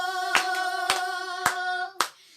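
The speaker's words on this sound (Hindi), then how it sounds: "सारे मिलकर ताली बजाओ" Hands clap in an even beat during a worship song, four or five sharp claps cutting through a sustained sung tone that fades out after the last clap.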